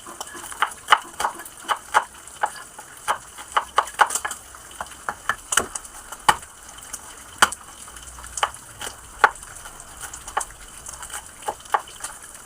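Onion and garlic frying in a pan, with steady sizzling broken by sharp crackling pops and spatters at irregular intervals, moderately close and without talk.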